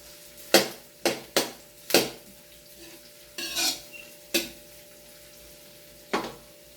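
Garlic and onion frying in a pan for pork dinuguan, stirred in a handful of sharp, separate scrapes and clinks spaced across the stretch over a low, steady background.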